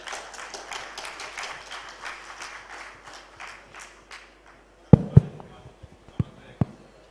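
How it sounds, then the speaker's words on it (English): A conference audience at an international scientific meeting applauds to welcome a professor, scattered clapping for about four seconds that thins out, followed by a few sharp isolated knocks and taps. "please applause Professor M.N. Alam sir"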